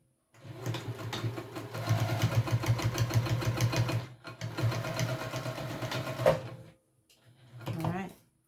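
A sewing machine stitches pack pieces in two long bursts of rapid, even mechanical chatter, then stops and restarts briefly, close and fairly quiet with pauses between runs.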